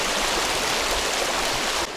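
Shallow mountain river flowing over stones, a steady dense rushing wash of water heard close and loud without a break, with no voices present.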